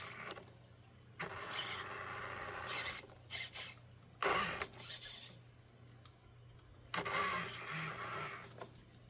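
The rear steering servo of an FMS Hummer H1 RC truck whirs in several short bursts separated by quiet pauses, close and faint.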